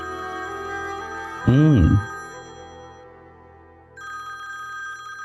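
A telephone rings steadily in the background with a tonal electronic ring, briefly interrupted by a burst of speech, then the ringing continues at moderate volume.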